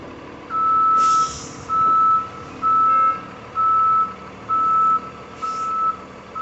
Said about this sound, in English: Now we're going to have this beeper going